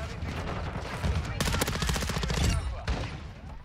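Rapid automatic gunfire from a weapon in the video game Modern Warfare 2 rattles loudly and continuously for several seconds in dense bursts, with a brief lull near the end before the firing resumes.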